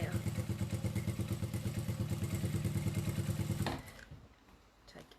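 Sewing machine stitching a cathedral windows table runner, a steady rapid mechanical chatter running loud and close for nearly four seconds before stopping abruptly into quiet handling noise.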